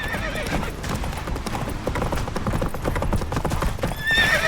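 Geralt's horse Roach from The Witcher 3 galloping with rapid, loud clip-clopping hooves, then a high neigh near the end.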